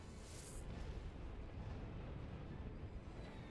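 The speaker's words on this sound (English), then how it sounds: "I think we also have now the missile barrage coming out" Missile barrage launching in Sins of a Solar Empire: a dense, rumbling roar of explosive bursts with a sharp hiss at the start, heavy and continuous throughout.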